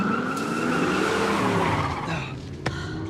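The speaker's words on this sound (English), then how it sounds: "will you slow this absurd red car down and keep your eyes on the road?" A red Ford Mustang skids hard, its tyres squealing in one long continuous screech that stays loud and close throughout, with engine roar underneath and a brief sharp knock near the end.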